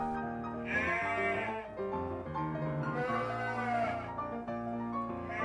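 Bottle-fed orphan lambs bleat loudly and repeatedly inside a vehicle being driven, several high wavering cries overlapping one another at close range.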